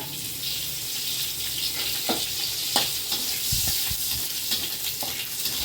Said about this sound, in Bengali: দিয়ে দিলাম তেল, তেলের মধ্যে দিয়ে দেবো কালো জিরে বেশ খানিকটা